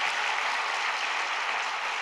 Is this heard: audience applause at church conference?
yes